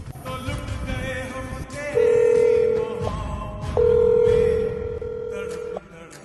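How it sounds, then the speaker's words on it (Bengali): Phone call being placed on a mobile, two long electronic ringback tones sounding loud and close after a short burst of dialing beeps, with faint background noise and no talk. "তুই এখন ওই মাইয়ারে কল দে ফোন দিয়া।"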